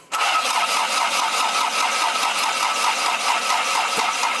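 A Toyota Corolla wagon's engine cranks on its starter, a steady rapid rhythmic churning that begins abruptly and continues close and loud without catching for several seconds.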